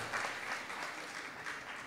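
Crowd applauding a prize winner at a neighborhood raffle in Miraflores, a short, even burst of steady clapping at moderate distance.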